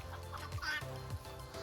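Chickens clucking softly nearby, a few short overlapping clucks and murmurs at low volume.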